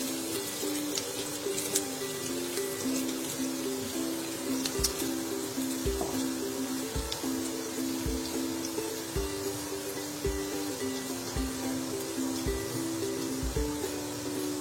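Finely chopped garlic cloves frying lightly in a pan, a steady soft sizzle running throughout with a low hum and occasional faint utensil taps.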